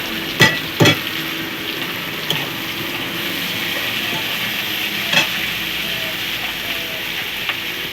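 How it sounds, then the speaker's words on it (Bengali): Onions with a bay leaf and garlic fry steadily in hot oil, a continuous sizzle with a few sharp clicks of a spoon against the pan. "এই যে পেঁয়াজগুলো, এগুলো একটু লাল করে ভেজে নেব"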